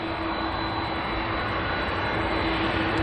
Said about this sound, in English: As the Dashi touches down, the A330 is on the move towards the runway.